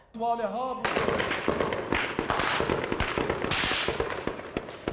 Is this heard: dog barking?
no